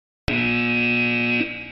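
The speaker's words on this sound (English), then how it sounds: "That buzzer means our time is up." A buzzer signals that time is up, a single loud, steady electronic tone that starts abruptly and holds for about a second before dropping slightly and fading, heard alone.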